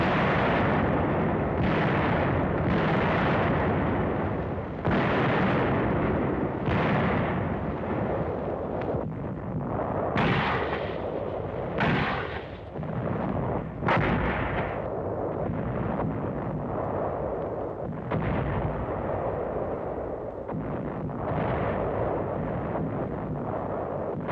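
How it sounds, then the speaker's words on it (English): Machine gun fire in World War II Burma newsreel footage, a dense stream of loud repeated bursts and booms over constant crackling film noise. "Patrol dashes out of the brush after being pinned down by machine gun fire"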